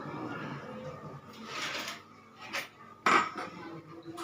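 Metal utensils scrape and clink against a pot while pickle is mixed by hand, a soft irregular stirring with a sharper knock near the end and faint background voices.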